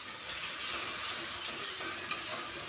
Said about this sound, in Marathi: छान असं वाटण परतवून घ्यायचं